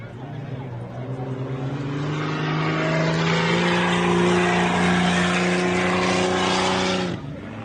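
Off-road racing Jeep from the Pro Comp 4600 class at the MetalCloak Stampede clearing the jump, its engine roaring loud and close with a strong steady harmonic drone that rises slightly, then cuts off abruptly near the end.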